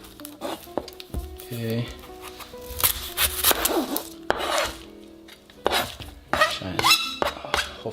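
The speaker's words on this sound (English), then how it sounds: "Now we have the onion. Let's go ahead and cut this part off." A knife slices through an onion on a cutting board in a series of irregular close scrapes and chops, with someone talking in between the cuts.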